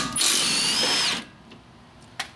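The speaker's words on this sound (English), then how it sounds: "We're gonna take this 14 millimeter flange bolt out. Just gonna use my impact." An impact wrench zips a 14 mm flange bolt out of a Honda Civic rear shock mount, one loud close burst of just over a second, followed by a short faint metallic clink.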